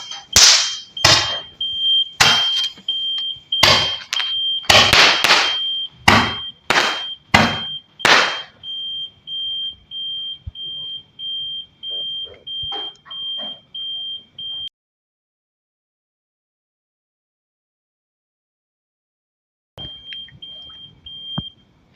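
A buzzer alarm on a fireworks firing system microcontroller box gives a steady high-pitched tone, first under a run of about a dozen sharp firework bangs, then alone, cutting out and returning briefly near the end.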